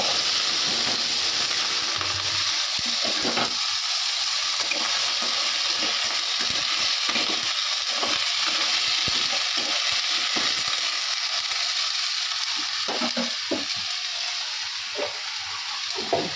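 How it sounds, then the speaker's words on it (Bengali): Food fries in a hot wok (kadai) with a steady bright sizzle, and occasional stirring clinks and scrapes break through the hiss, with no talk. "বসিয়ে দিই কড়াইটা গরম হয়ে গেছে"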